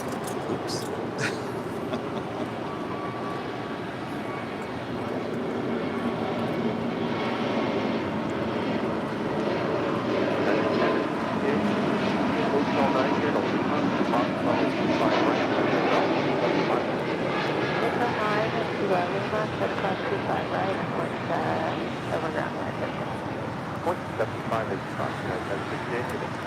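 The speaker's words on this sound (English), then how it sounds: "That was Spirit Airlines 888 departing to Columbus on an A320 Neo" A Spirit Airlines Airbus A320neo takes off bound for Columbus, its jet engines building into a loud, sustained roar that swells and then slowly fades, with people talking over it.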